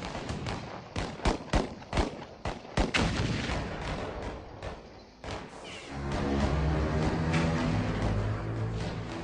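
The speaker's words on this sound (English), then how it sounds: "The thunder of gunfire rocks the walls of Doomsday Mountain" Rapid bursts of gunfire crack in irregular clusters, loud and close, then give way to a steady low rumble and roar of continued shooting.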